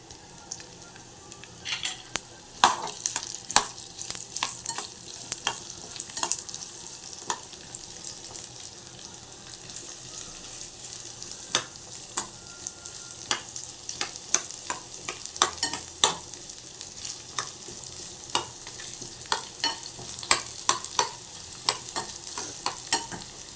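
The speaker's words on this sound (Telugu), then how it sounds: "ఇప్పుడు తరిగి పెట్టుకుని ఎర్రగడ్డ వేసుకుందాము" Chopped onion sizzles in a little oil in a pan, with a steady frying hiss and repeated scraping stirs and clicks from the utensil. There is no talking.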